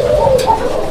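A single close pigeon from a pair of Gola breed birds gives a loud, short throaty coo, one clear rolling call with a brief rustle in the middle.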